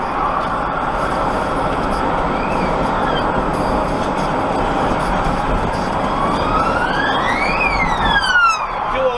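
A police car siren wails on a UK road, its rising and falling tones sweeping loudly over heavy truck engine and road rumble, growing nearer toward the end.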